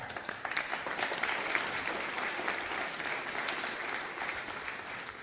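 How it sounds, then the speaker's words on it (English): A conference audience at a 2015 research conference in Madrid applauds the day's speakers, a dense, steady round of clapping filling the room at even volume for about five seconds. "I would say we give them a little round of applause."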